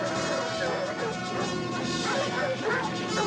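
Several dogs chasing a fox through the countryside, barking and yipping excitedly, loud and continuous, mixed with a dramatic music score.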